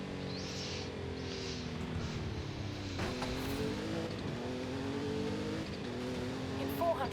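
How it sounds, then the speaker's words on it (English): A Jeep Wagoneer's engine in Forza Horizon 5 revs and shifts through gears, rising in pitch and dropping at each change, steady and fairly loud with faint voices underneath. "The engine noise is making me want to yell over everything."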